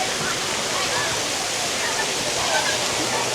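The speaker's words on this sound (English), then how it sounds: "Another waterfall." A waterfall inside a hotel pool grotto at a resort lagoon, a constant dense rush of falling water filling the space close by, steady and loud with faint voices mixed beneath.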